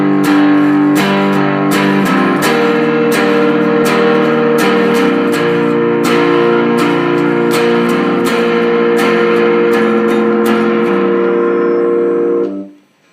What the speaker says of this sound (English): that is a distorted guitar with a fuzz sound on it